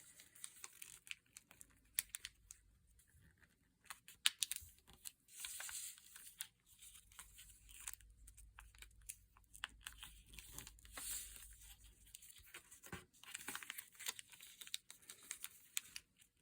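Thin origami paper is creased and folded in many layers for a candy dish, giving soft crinkling and sharp papery snaps and clicks scattered irregularly, close and quiet, with no talking.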